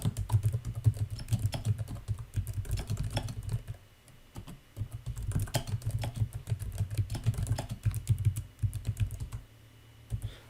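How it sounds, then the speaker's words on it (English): Typing on a computer keyboard, rapid continuous key clicks in uneven bursts with a short pause, close and fairly quiet. "Let's just type it up."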